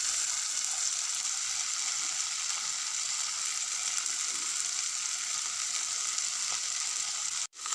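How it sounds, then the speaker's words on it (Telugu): Tomatoes and mint leaves frying in a pan give a continuous, even hiss of sizzling oil with faint stirring, cutting out abruptly near the end. "ఆకులు కూడా మెత్తబడేంత వరకు మనం ఇలాగే కలిపేసుకోవాలి"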